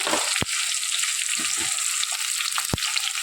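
Dried red chillies, curry leaves and shallots fry in hot oil for a prawn theeyal, a steady close sizzle broken by two sharp clacks of ingredients or a spoon hitting the pan.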